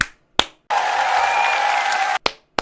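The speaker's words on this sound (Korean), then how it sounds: "박수 한번 주십시오." Studio audience clapping steadily for about a second and a half, bracketed by single sharp claps or slaps just before and after, loud and close with no voices.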